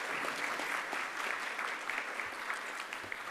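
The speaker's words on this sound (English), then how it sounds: "please just give a round of applause to your parents and to the staff that's here" An audience applauds at a medical school white coat ceremony for the class of 2024, a steady, moderately distant wash of many hands clapping at once with no voices over it.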